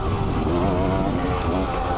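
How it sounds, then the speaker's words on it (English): A 2019 Husqvarna TE300i dirt bike engine drones steadily and close while being ridden on a spring outing, a continuous buzzing two-stroke tone that wavers slightly in pitch throughout. "I'm riding the Husky TE300i."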